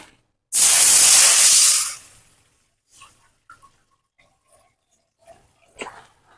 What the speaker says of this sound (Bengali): একটু তেল দিয়ে হালকা ফ্রাই করে নিলাম এখন জল দিয়ে দিব